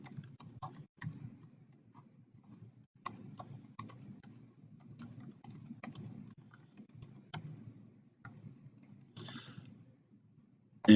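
Rapid, irregular clicking of computer keyboard typing, close and fairly quiet, continuing in bursts for about eleven seconds with a louder thump at the very end.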